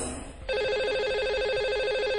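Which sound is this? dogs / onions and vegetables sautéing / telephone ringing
telephone ringing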